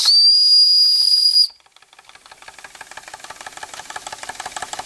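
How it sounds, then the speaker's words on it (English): A loud, high whistle on an old Bing vertical steam engine blows for over a second, then cuts off, leaving the engine chugging in a quickening, rhythmic knock with hissing steam. "Boiler on the steam pipe, whistle of course"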